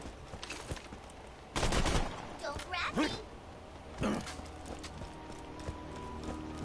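Rifle shots in the Borderlands 2 video game, a few loud sharp bursts separated by pauses, set against busy game sounds and what seems to be a voice.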